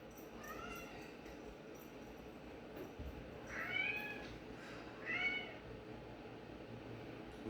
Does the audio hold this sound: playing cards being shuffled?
no